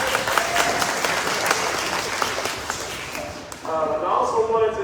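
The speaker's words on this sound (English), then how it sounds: "Give a round of applause for him." Audience applause at a community choir's Mother's Day performance, a sustained clapping wash that tapers off before a voice begins speaking near the end.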